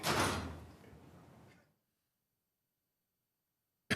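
A door opening and closing as someone enters a parks and recreation commission meeting room, a loud close rush of movement that fades over about a second and a half, then silence, with a brief sharp knock at the very end.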